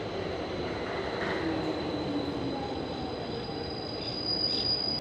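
An Athens metro green line train pulls into Thiseio station, a steady low rumble of wheels on rails with a thin high whine rising and holding, moderately close and without talking.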